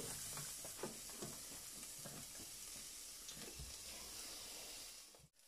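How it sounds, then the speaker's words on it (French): Figatelli sausage grills in a very hot pan, crackling and sizzling steadily with scattered spatters and stir scrapes, then a sharp knock and sudden drop at the end. "Commencez par faire griller votre figatelli pour la déco dans une poêle bien chaude."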